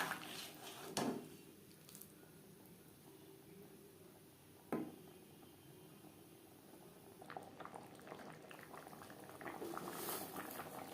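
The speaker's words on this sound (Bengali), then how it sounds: "গ্রেভি বেশ ভালো করে ফুটিয়ে নেব" A pot of vegetable navratan korma gravy simmers and boils steadily, with soft continuous bubbling and a few louder pops and stirs, close but quiet.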